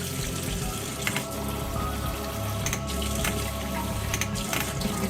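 Water trickling and spattering out of a container onto a surface, a steady hissing splash with a few sharper drips, fairly close and continuous without talk.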